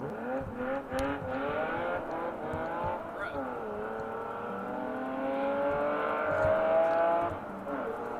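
A car engine revs hard in the distance, its pitch climbing and then dropping through downshifts, with voices talking over it.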